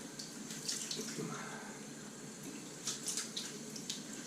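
Water splashing from a tap as a face is wet before shaving, a continuous close running-water hiss with small splashes and bursts.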